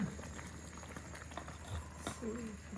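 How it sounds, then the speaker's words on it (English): Tea bubbling up while it brews, a soft, steady boiling patter kept fairly quiet, with a few faint clinks and a murmuring voice now and then in the background. "Ooh, that's bubbling up nice."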